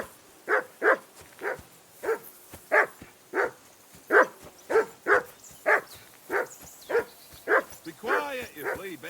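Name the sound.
dog barking at Henry in Kingdom Come Deliverance 2 video game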